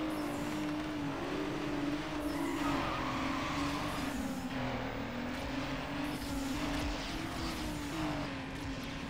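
A car in Need for Speed Underground spins its wheels, with a loud, continuous engine roar and tire squeal that holds for several seconds and wavers slightly in pitch.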